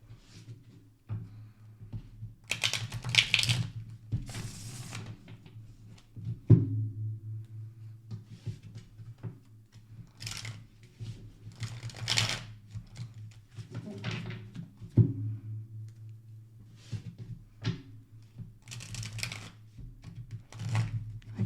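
Repeated bursts of papery riffling and soft taps as tarot cards are shuffled, in uneven clusters over a steady low hum, with quiet gaps between shuffles.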